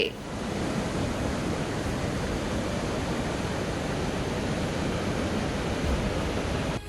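Surumane waterfall in Chikkamagaluru, Karnataka, pours in heavy, dangerously high flow after rain, producing a dense, unbroken roar of rushing water that stays loud and steady from start to finish.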